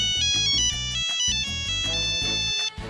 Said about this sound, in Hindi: पापा का फोन आ गया।